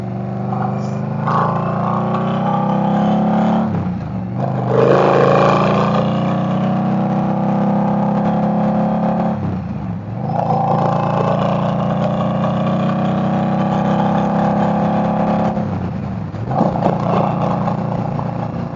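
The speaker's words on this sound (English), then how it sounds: "It's pretty much straight piped with the GP shorties on there." A 2022 Indian Scout Bobber 20 motorcycle with a nearly straight-piped GP shorties exhaust runs loud and close at idle, a steady deep engine drone that dips briefly at three points before settling back to the same rumble.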